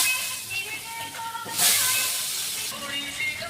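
Potatoes frying in oil in a pan, a steady close hiss with a sudden louder surge of sizzling partway through before settling back, with a voice speaking briefly.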